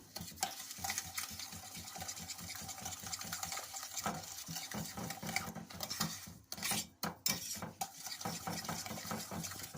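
Eggs and sugar whisked together in a bowl for a Turkish wet cake batter until frothy: a steady, rapid scraping and clinking of the whisk, close and continuous, with no talking.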